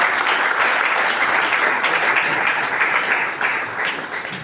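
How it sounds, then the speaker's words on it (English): Audience at an official gathering breaks into applause, a loud, full roll of many hands clapping continuously, easing off a little toward the close. "Please, can we give them a round of applause?"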